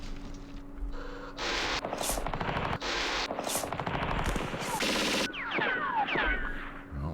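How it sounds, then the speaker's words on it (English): Machine gun fire in the Campaign Series East Front wargame: several long rapid bursts of close, loud automatic fire in succession, with a short break midway and a whistling, chirping tail at the end. "These are machine guns."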